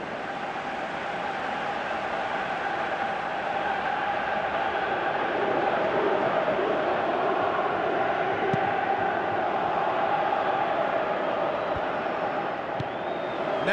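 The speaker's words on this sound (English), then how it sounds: "you can hear how the crowd are reacting to this too." Stadium crowd in the Pro Evolution Soccer 2018 football game keeps up a continuous loud roar of chanting and cheering, swelling slightly midway, with commentary voices blended in.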